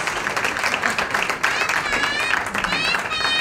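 Audience applause at an amateur kickboxing exhibition fight in Japan, a steady wash of clapping from a crowd, moderately loud, with a voice sounding over it.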